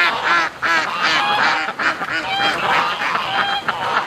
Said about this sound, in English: those geese are, look at them going. They're trying to get air.